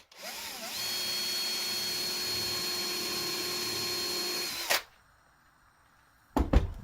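A power drill bores a hole through a wooden axe handle, a loud steady whine held for about four seconds that stops abruptly, followed by quiet and then a short rattling burst near the end.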